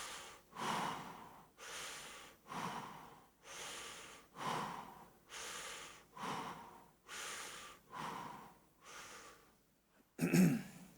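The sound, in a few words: deep breathing in during a stretching exercise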